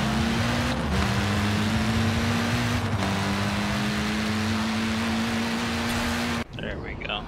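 A 1974 Toyota Corolla with a rally engine and drag tune in the racing game Forza Horizon 4 holds a steady high-revving engine drone with brief dips, then launches as the revs drop, under someone speaking.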